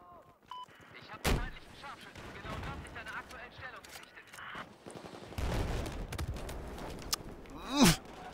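Battlefield 4 multiplayer gunfire: sharp shots and bursts of automatic fire pop in and out around someone talking, with a loud crack near the end.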